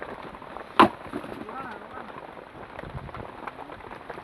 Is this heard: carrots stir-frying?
no